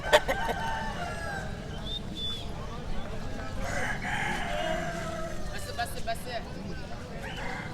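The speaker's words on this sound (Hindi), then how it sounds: "मुर्गी छोड़ो ना, मुर्गी दिखाओ ना।" Chickens at a busy outdoor bird market in Hyderabad, Sindh, crow and cluck amid crowd hubbub, with a rooster's crow standing out and people talking nearby.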